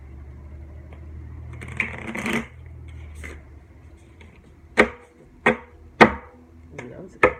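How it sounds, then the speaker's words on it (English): Tarot cards are shuffled by hand close up, a brief riffling rustle followed by a series of sharp, evenly spaced taps as the deck is squared and cut, with a low hum in the background. "let's see if I can get 2 good shuffles here"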